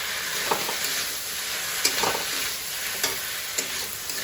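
Taro stems are fried with dried fish in a pan, a constant close sizzle punctuated by several light scraping stirs at irregular intervals, with no voices.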